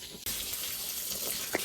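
Water poured from a container onto dried-out potted plants and their parched soil, a steady close splashing trickle that starts abruptly and runs continuously without speech.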